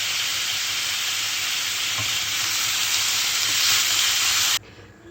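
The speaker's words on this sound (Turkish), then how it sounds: "Etlerimin rengi biraz değişene kadar e, ve suyunu çekene kadar kavuracağım arkadaşlar." Meat for tas kebab frying in a pan, a loud continuous sizzle and hiss with faint stirring, cutting abruptly to near quiet at the end.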